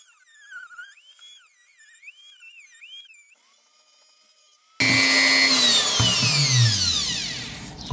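A power tool cuts into PVC pipe while hollowing it out to shape a decorative lamp, starting abruptly after a quiet, tonal stretch and then whining loudly and steadily to the end.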